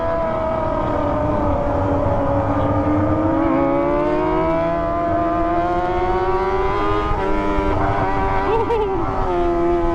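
A Kawasaki ZX25R motorcycle with a loud aftermarket Toce exhaust drones and revs continuously toward the limiter, its pitch rising and falling throughout, with no pauses in the noise.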